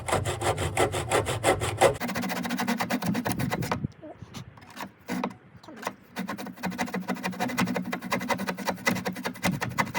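A power saw rips through wood while fitting out the cab and worktop of a 1983 VW T3 Vanagon, cutting in loud rasping bursts with short pauses between passes.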